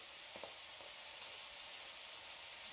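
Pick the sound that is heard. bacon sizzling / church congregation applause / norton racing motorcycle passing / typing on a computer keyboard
bacon sizzling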